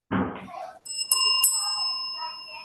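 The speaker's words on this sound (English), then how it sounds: "can we hear it from the timekeeper, the bell?" A timekeeper's small bell at a school debate rings out clearly in a few bright strikes, its tone lingering after a brief voice.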